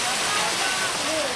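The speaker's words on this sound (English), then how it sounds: "this is a waterfall" Steady broadband rush of a zoo waterfall trickling over three rock formations, an even wash of falling water heard close with no break.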